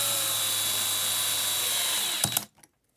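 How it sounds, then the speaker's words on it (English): An electric screwdriver whirs steadily, driving screws into a plastic Quadtari kit case, then cuts out with a couple of short clicks and stops near the end, leaving silence. "set your screwdriver to the lowest setting"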